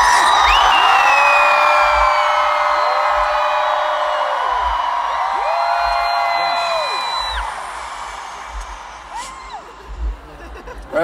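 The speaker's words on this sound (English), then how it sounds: "So on the count of three, give me your loudest scream." A large concert crowd in Moscow, Russia, screams loudly at a show, a dense roar with high whoops and yells that holds strongly, then tapers off toward the end.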